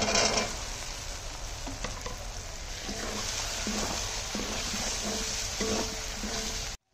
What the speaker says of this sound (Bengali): মশলাটার থেকে তেল ছেড়ে দিয়েছে, এখন দিয়ে দেবো মটরশুঁটি।